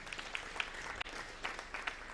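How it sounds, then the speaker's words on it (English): Audience clapping at a live national sports career fair and symposium in Nairobi, a steady patter of hands with a brief dip midway and no voices over it. "So clap for yourselves."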